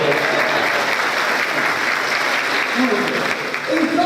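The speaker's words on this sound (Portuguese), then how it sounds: "Uma salva de palmas para o Jefferson." Steady applause from a church congregation for Jefferson during a sermon, a full, continuous wash of many hands clapping, with a few murmured voices rising toward the close.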